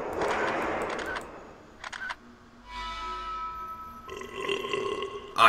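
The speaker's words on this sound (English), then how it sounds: "Could hear you burping though." A loud, guttural burp bursts out near the start amid livestream game audio, followed later by a few shorter clicks and tonal game sounds, with no talking.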